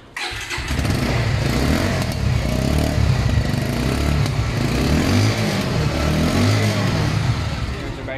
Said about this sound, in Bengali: চলেন আপনাদেরকে বাইকের সাউন্ডটা শোনাই